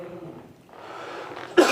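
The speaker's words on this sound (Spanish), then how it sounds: "Perdonen, me entró la tos sin ningún sentido." During a spoken lecture, a single harsh cough from the speaker bursts out loudly near the end, preceded by a faint, quiet murmur and soft breathing.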